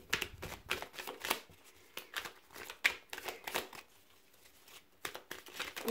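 Tarot cards shuffled by hand during a five-card reading, a steady run of soft riffling slaps and crisp papery flicks in quick irregular bursts with brief pauses, close and fairly quiet with no talking.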